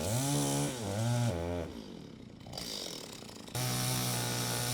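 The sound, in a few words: chainsaw cutting a walnut log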